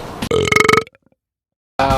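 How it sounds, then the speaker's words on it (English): A loud, drawn-out human burp in two rough pulses, followed by silence and then another abrupt burst of sound. "Burping is one of the most effective ways because it's subtle, yet it wards people away."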